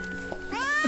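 A cat meows once, a rising then falling cry that swells near the end, close by, heard alone over a faint background hum.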